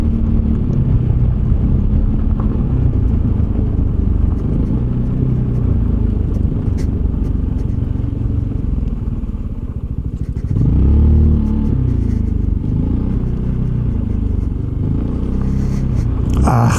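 Zontes ADV 368 G adventure scooter ridden off-road on a bumpy gravel track, its engine droning steadily up close with rumbling, clattering shocks from the rough surface, no talking.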